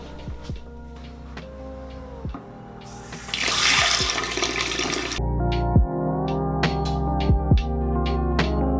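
A burst of running water pours for a couple of seconds over a steady low hum and intermittent clinks, then stops.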